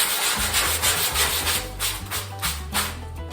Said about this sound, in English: so we'll go ahead and sand it down.